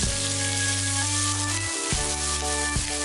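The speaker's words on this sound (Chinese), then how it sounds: "再把猪肚条倒进来" Strips of cooked pork tripe fry in a hot oiled wok with ginger and garlic. A loud, continuous sizzle runs throughout, marked by a few sharp spatula scrapes, and no one speaks.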